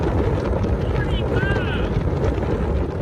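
Heavy, constant wind roars across the microphone inside a Jeep Wrangler 4xe driven at about 35 mph with the windshield removed, loud and unbroken throughout.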